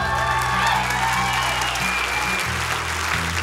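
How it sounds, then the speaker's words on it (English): Congregation applauding during a church celebration, steady dense clapping filling the whole stretch with a low organ-like tone underneath, no talk over it. "We're celebrating, we're clapping."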